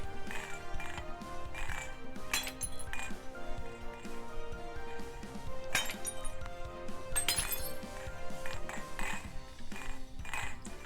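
Plates and other crockery smash in the video game I Am Bread, with several loud crashing, clinking bursts of breaking china over steady background game music.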